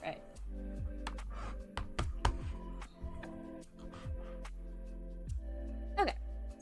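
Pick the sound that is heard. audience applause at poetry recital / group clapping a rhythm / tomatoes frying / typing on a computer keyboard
typing on a computer keyboard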